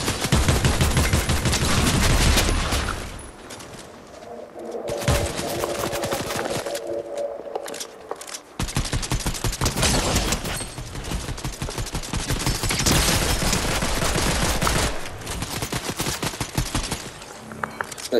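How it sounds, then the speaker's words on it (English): Gunfire in the video game Fortnite, loud bursts of rapid automatic shots that come in long stretches, broken by short quiet gaps and a few lulls. "someone's shooting"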